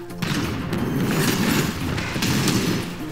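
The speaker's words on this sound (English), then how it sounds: "Alright, I got my cannon back." Cannon fire in the Brawlhalla fighting game, heavy booming thuds and crashes piling on one another in a dense, loud run of blasts with no break.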